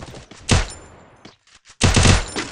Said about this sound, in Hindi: मैंने यहाँ एक को भर दिया AWM से